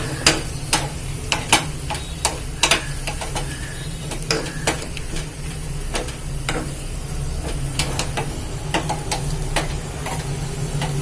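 Bitter gourd vathal frying in a little oil, a steady low sizzle running throughout with frequent sharp clinks and scrapes of a utensil against the pan.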